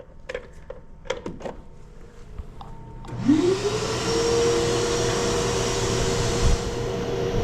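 A homemade shop air filtration fan is switched on after a few handling clicks and knocks, spinning up with a rising whine into a steady loud whooshing hum that holds to the end.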